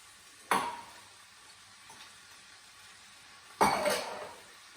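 Bean sprouts tossed into a pan of traditional fried rice give two sharp clattering hits of sizzling and stirring, each fading over a second or so, with quiet frying between.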